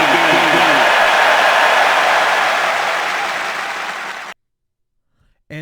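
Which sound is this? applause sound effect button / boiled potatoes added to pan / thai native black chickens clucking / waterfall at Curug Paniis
applause sound effect button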